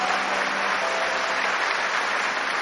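A church congregation claps in praise, a dense, even wash of applause from many hands that holds steady for a few seconds without a break.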